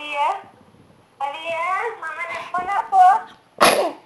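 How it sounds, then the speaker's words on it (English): Close voices chatter and a girl lets out a short, sharp sneeze near the end, loud and abrupt against the ongoing talk. "Oh, she sneezed."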